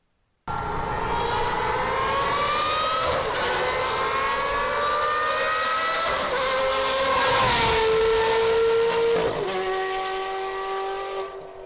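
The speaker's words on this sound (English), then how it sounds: "the Fab Speed exhaust it's what everybody notices first" A modified Ferrari with a Fab Speed exhaust revs loud and close for about eleven seconds, its pitch climbing and dropping through several rising sweeps in a continuous howl, with no talk.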